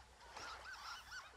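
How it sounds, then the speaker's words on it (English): Geese in Firewatch honk in a quick run of about four calls, faint and somewhat distant, with no talk. "Fucking birds."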